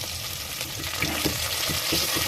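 Shallots and a sprig of curry leaves sautéing in a clay pot for fish curry, giving a continuous close frying hiss with soft rhythmic stirring knocks underneath.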